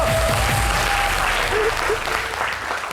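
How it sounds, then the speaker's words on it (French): A television studio audience applauds for Côte d'Ivoire with steady, dense clapping from many hands, while a few voices call out briefly over it. "Public, on applaudit pour la Côte d'Ivoire"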